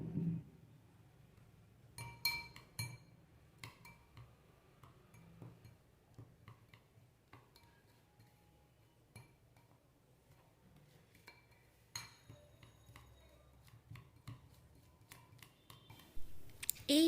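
Powdered sugar being mixed slowly into cake batter by hand, with scattered soft clinks of a utensil against a bowl and faint scraping at low level throughout.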